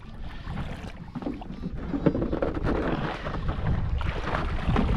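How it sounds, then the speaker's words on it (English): Wind buffeting around a Hobie Lynx fishing kayak out on the water, a gusty rumbling roar and hiss that rises and falls across the microphone, close and steady, with light water sounds underneath and no talk. "there's a little bit of wind today, but not that much"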